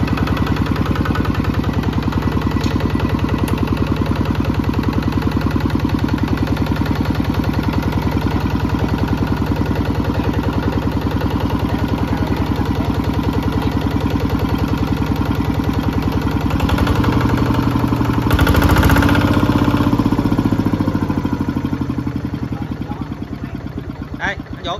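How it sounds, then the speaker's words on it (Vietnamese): A Kubota ZT140 tractor engine idles steadily and loudly throughout, a constant low throbbing drone that swells briefly near the end, with voices talking over it. "Nổ máy anh em ơi."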